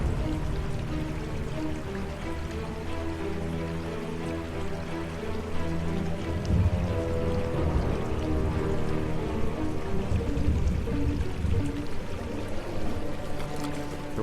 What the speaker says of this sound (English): The rain poured down for days